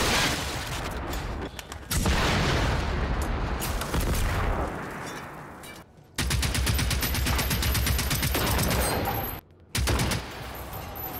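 Heavy gunfire from big guns in the video game Generation Zero, dense sustained bursts and booming volleys filling most of the stretch, broken by two brief silent gaps, loud and close with no talking.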